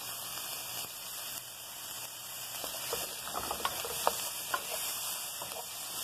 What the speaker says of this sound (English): now I'm going to start stirring them around. You can see how the mushrooms are getting some color.